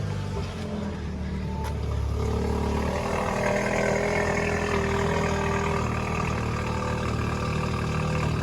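A 2020 Audi A3 with a resonator-delete exhaust and an RS3 turbo kit idles steadily for several seconds, its deep, even rumble close by and constant, with no voices.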